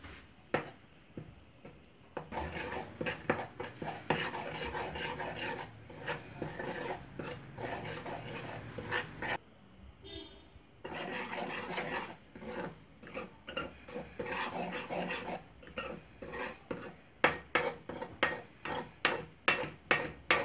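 Semolina being stirred and browned in a pan for dates halwa, giving repeated scraping and rasping strokes of a spoon against the pan, close and fairly quiet, growing into quicker distinct scrapes near the end.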